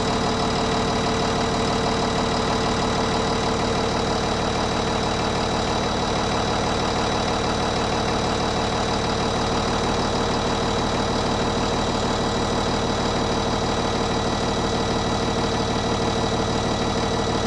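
A Cummins 6.7 liter diesel, roughly 340 to 360 horsepower, idles after a cold start in a 2018 Jayco Seneca motorhome, a loud steady close rumble with an even knocking clatter throughout, no talk.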